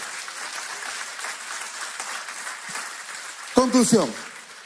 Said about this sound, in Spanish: Dale un fuerte aplauso al Todopoderoso.